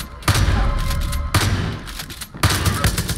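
Pump-action shotgun fire in Far Cry 5, three heavy booming blasts spaced about a second apart, loud and close, each trailing into a rumble with faint game noise between shots.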